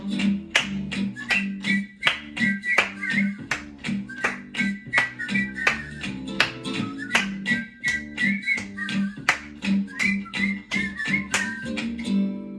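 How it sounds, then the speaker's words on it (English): Regular sharp hand claps keep a steady beat beneath a whistled, sing-song melody, clear and close throughout. "Hands are for clapping, let's all clap along."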